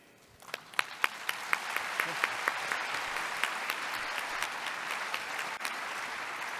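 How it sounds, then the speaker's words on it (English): A closing-ceremony audience breaks into applause. A few distinct early claps swell into a steady, moderately loud round that holds to the end without speech. "another big round of applause, please"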